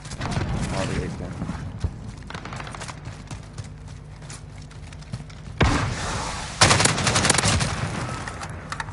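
Gunfire from an AK rifle in the Modern Warfare video game, with shots and bursts scattered over steady game noise and two louder stretches near the end, while a person talks over it.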